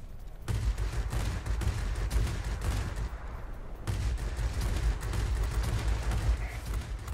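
Rapid aircraft gunfire from a Japanese heavy fighter in a World of Warplanes aerial battle, a dense sustained rattle of shots running almost the whole time with a brief break midway, loud and close.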